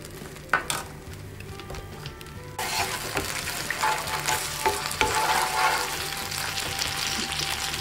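Chicken manchurian frying in a pan breaks into a loud, steady sizzle a few seconds in as vinegar is added, crackling and hissing continuously over a quieter cooking background.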